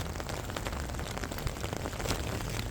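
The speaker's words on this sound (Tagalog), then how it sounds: "Malakas po yung ulan." Steady, dense hiss of heavy rain pouring down, heard while riding a bus, continuous and fairly loud, with no voices.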